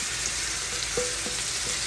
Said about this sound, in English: And you wanna fry this rice until it becomes nice and loose.